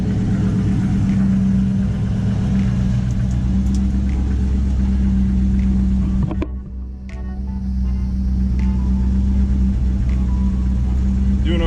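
A 1985 Ford Mustang LX with a 5.0 engine that has trouble idling smoothly runs close by, a steady low rumble with a brief dip midway before settling back.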